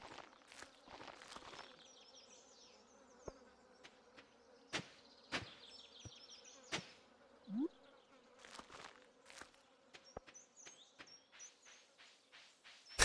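Insistent insect buzzing from bees around a Stardew Valley farm, a steady drone threaded with sharp clicks and soft footstep taps, fairly quiet and without any talking.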